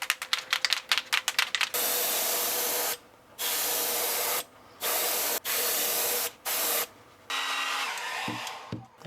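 An airbrush sprays pearlized bronze-gold paint onto a wooden Heddon Torpedo fishing lure, with several steady hissing bursts of a second or so each, starting after a run of quick clicks, close and alone.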